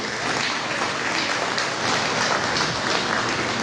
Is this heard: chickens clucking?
no